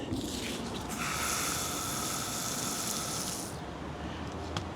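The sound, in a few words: watering a marigold plant in the garden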